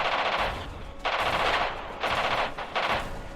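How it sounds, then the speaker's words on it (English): Artillery firing in the WWII D-Day video game Radio General, loud bursts of rapid gunfire in several rolling volleys separated by brief gaps. "Artillery firing"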